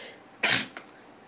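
A single loud, close sneeze bursts out sharply and briefly, followed by a quick small exhale, against a quiet room.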